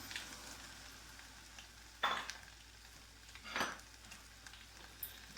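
Chicken carcasses and crushed garlic sizzle in a hot pan, a quiet steady frying hiss broken by two louder scraping stirs and a light clink.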